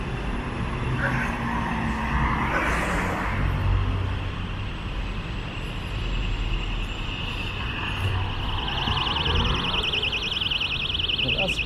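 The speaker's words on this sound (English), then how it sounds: "That's quite the ear-splitting alarm going off there." A piercing, ear-splitting alarm sounds on a downtown Toronto street near Queens Quay at the lakefront, its high repeating tone rising in the later part over a constant wash of passing traffic.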